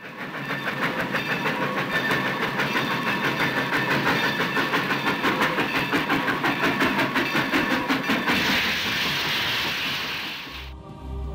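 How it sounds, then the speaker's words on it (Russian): A train running along a northern railway, rhythmic clickety-clack of wheels over rail joints repeating steadily and loudly, with a rumbling engine underneath, ending abruptly near the end. "Шум поездов,"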